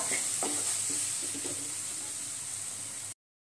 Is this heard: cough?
no